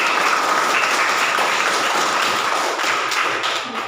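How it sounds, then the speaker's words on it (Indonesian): A school class applauding together: dense, steady clapping from many hands filling the room, close and fairly loud, with no talk over it. "Baik, tepuk tangan dulu kita semua."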